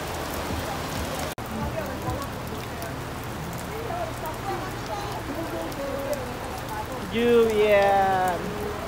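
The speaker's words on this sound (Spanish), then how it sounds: "Lluvia." Steady rain falls continuously on surfaces in Iquitos, a dense, close hiss throughout, with a voice rising briefly near the end.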